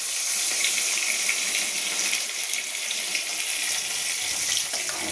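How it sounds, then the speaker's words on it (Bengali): Water poured into a pan of simmering fish curry with potatoes and tomatoes, a steady, fairly loud hissing pour that runs unbroken for about five seconds with no talking. "দিয়ে দিচ্ছি ঝোলের জন্য জলটা।"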